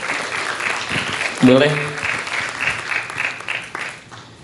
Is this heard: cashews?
no